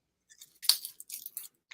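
Close, crisp crunching bursts of chewing on chocolate, irregular and short, with quiet gaps between bites.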